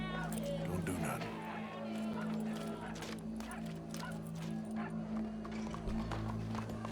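Horse hooves clip-clop steadily in Red Dead Redemption 2, a continuous rhythmic trot over a steady low hum and background game ambience, with voices talking over it.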